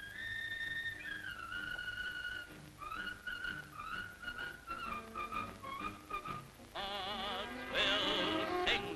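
Soldiers whistle a marching song on the road toward Paris: a clear, continuous melody with instrumental backing that swells louder near the end.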